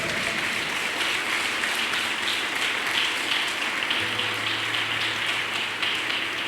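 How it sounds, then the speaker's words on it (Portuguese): Church congregation clapping during a sermon, a soft, even wash of many hands at a distance, continuous throughout with a low steady hum underneath. "Você pode aplaudir ao Senhor bem forte?"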